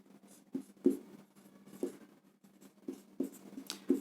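Marker or chalk writing on a board in a classroom, a few distinct strokes and taps spaced irregularly over near silence.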